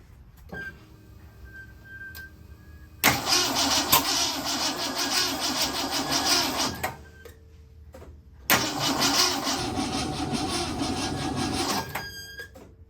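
A 1968 Ford Mustang engine cranks twice without firing after its distributor has been pulled and turned around, each attempt a loud, rhythmic starter churn lasting several seconds, separated by a brief pause.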